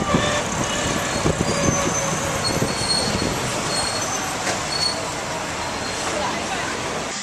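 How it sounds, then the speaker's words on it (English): A cart ride to a gym in China gives a continuous rattling, rumbling ride with rail-like squeals and clatter, steady and fairly close, with faint voices in the background. "Another day, another cart ride to the gym."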